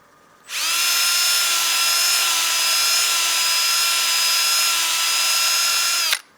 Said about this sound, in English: So use that drill to contour the inside and get this profile you want